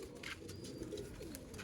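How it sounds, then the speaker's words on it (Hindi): Sialkoti pigeons coo softly in a loft, low gentle calls repeating close by, faint and mixed with light rustling and small chirps. "नायाब सियालकोटी कबूतर।"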